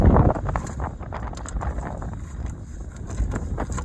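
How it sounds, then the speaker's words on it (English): Wind buffeting the microphone outdoors, gusty low rumbling with scattered small knocks and clicks. "It is windy today."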